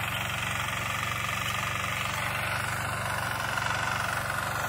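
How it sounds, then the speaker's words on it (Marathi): A tractor engine works in a rice field, giving a steady, throbbing mechanical drone with a fast rhythmic knock. It runs continuously at moderate distance with no talk. "आणि ते इथे आपला ट्रॅक्टरचं पण काम चालू आहे."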